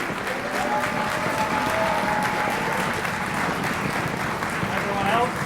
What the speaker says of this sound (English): So give it a round of applause for the concert orchestra who's currently standing.